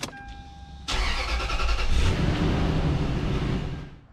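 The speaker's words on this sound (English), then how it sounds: "Okay, so I'm going to start it up." Car engine starting after a radiator, hoses and thermostat replacement: a brief whirring crank, then the engine catches with a loud roar and settles into a steady, rough idle nearby.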